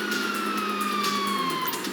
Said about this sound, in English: Oh, fuck, you hear that? Sirens.